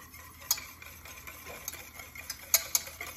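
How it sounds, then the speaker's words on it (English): A whisk clicks and scrapes against a bowl while mayonnaise is beaten by hand, quiet irregular ticks and swishes in a close, otherwise still kitchen. "I'm really whisking this."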